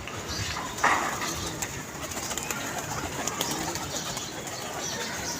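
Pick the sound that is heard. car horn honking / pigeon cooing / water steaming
pigeon cooing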